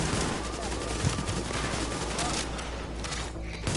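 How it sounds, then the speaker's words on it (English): Dense, continuous AK rifle fire in a video game, rapid overlapping shots forming a loud, steady wash of gunfire throughout. "this AK is an annoying weapon"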